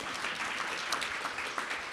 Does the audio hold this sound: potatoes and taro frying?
no